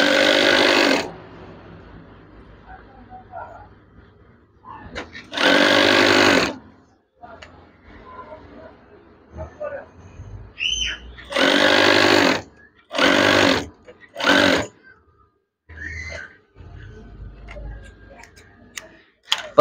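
A sewing machine stitches curtain fabric in several loud, rapid mechanical bursts of a second or so each, separated by quieter pauses with handling noises and a few soft voice sounds.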